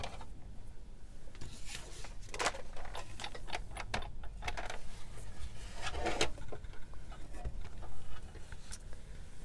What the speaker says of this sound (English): Now we're going to cut out a piece from the middle.